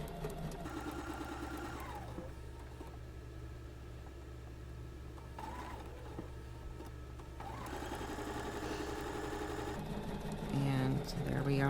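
A sewing machine hums and chatters continuously while stitching a quilt seam, steady mechanical whir with brief pauses, under a person talking quietly.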